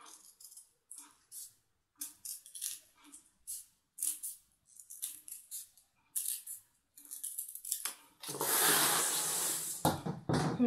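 Scissors cut through fabric for a jilbab cape in short separate snips, quiet and close, followed by a louder rustle of cloth being handled near the end.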